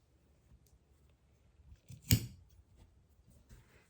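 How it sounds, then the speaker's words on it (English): Scissors snip off a corner of a fabric baby burp cloth in one sharp, close cut near the middle, surrounded by faint handling rustle in an otherwise quiet room. "Trimming off that corner."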